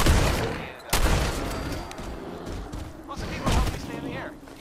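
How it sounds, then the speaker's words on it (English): Shotgun blasts ring out in Fallout 4, two sharp, loud booms a few seconds apart amid busy game noise and a voice talking. "That was probably a waste of shotgun ammo."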